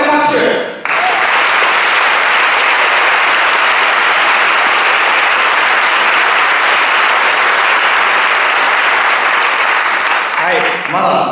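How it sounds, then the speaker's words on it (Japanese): Sustained, dense applause from a large conference audience at the YAPC::Asia Tokyo 2014 closing session, loud and steady for about ten seconds, with brief voices at the start and end. "もう一回拍手。"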